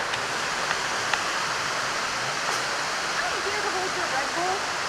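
Steady broadband roar of a waterfall, close and constant throughout, with faint voices and movement under the rushing water.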